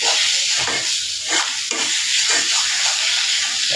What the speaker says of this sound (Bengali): ভাজিটা ভাজতে ভাজতে একদম লাল হয়ে গেছে আর হলো তেল ছেড়ে দিচ্ছে